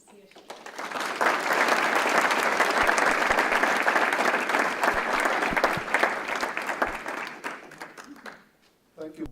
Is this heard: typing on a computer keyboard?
no